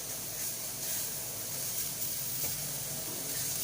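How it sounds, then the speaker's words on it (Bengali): Chicken kebab pieces frying in a pan on a gas stove give off a continuous, even hiss and sizzle at moderate volume, with no speech. "আপনারাও ঠিক এরকমভাবেই ভাজা ভাজা করে নেবেন"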